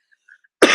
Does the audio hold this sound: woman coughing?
yes